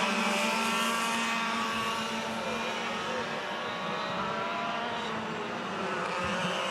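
Senior 100cc Yamaha racing karts scream past on a circuit during a pre-final race, a steady, high-pitched two-stroke engine drone with a wash of loud buzzing that holds throughout, no voices.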